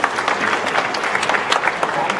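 An audience claps for the winners at a UI GreenMetric award ceremony, a continuous burst of dense applause at close range without pause.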